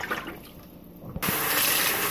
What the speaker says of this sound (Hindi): ये देखिए मैं इसमें दोबारा पानी फिल कर रही हूँ